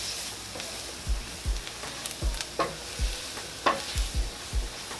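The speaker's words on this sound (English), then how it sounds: "we're going to let the flour kind of fry in this butter and this olive oil a little bit" Flour frying in butter and olive oil for beef stroganoff, with a utensil stirring through it in a string of close, soft scraping strokes over a faint steady sizzle.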